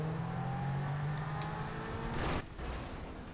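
A car in a stunt racing video game drives with a sustained, loud engine drone and rising revs, then cuts off abruptly before a quieter engine tone resumes.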